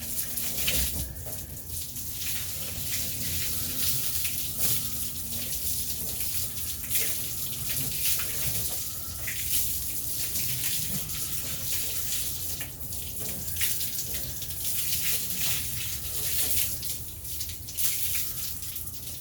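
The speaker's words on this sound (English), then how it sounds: "let's rinse this off" Running tap water rinses off a surface after a product test, a continuous gushing splash with shifting spatters and small bursts as the stream hits and scatters, steady for the whole stretch.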